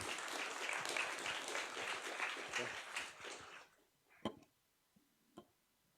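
Audience applause after a game jam presentation, a dense burst of clapping from a room full of people that fades out after a few seconds, leaving a couple of isolated knocks.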